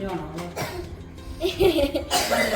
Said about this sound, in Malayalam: അവൾ ചുമയാ